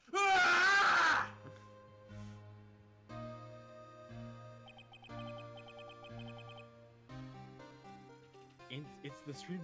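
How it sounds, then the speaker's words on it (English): A loud, shrill scream from the Phoenix Wright: Ace Attorney video game bursts out for about a second at the start, followed by game music and chiming beeps. "It's the scream that I had heard in the elevator"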